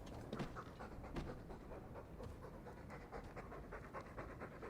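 A dog pants in the video game Dragon Age II, a quick, steady, breathy rhythm that runs throughout at low level over a soft game background, with no talking.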